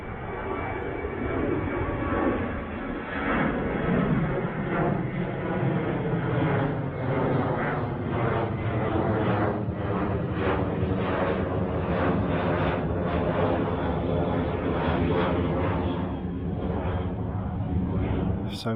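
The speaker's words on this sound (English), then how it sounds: "That is a Jet 2, and it's going to Malaga." A Jet2 passenger jet bound for Malaga passes overhead near a motorhome site, a loud, steady broadband engine roar that holds throughout without fading, with no talking.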